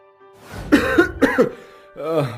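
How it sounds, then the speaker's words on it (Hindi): A man coughs harshly several times in a row, followed by a strained, groaning vocal sound, close and fairly loud. "एक दिन वो बिस्तर पर लेटा हुआ खांस रहा होता है।"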